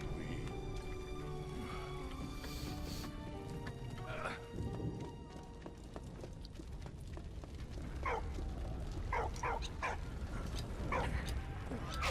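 A dog barks in Valiant Hearts, a World War One video game, with a series of sharp, mid-distance yaps in the second half over a busy game soundscape of hoofbeats and background noise.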